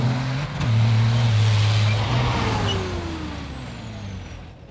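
A Buggyra Dakar racing truck rumbles close by with a deep, loud engine that swells and then slowly fades, with a rising whine and a brief air hiss.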